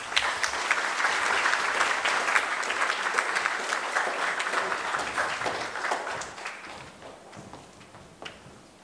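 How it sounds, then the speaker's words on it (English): An audience at a grammar school graduation claps in dense, steady applause that slowly thins and tapers off toward the end, with a few scattered claps remaining. "Let's give Ms. Doughton another round of applause."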